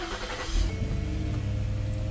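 A Lincoln MKX engine turning over and catching, a brief crank giving way to a steady idle rumble that stays close and moderately loud.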